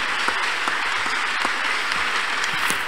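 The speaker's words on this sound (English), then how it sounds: "Let's clap unto God and appreciate Him." Church congregation clapping in praise, dense and fairly loud, a steady unbroken patter of many hands with occasional sharper claps standing out.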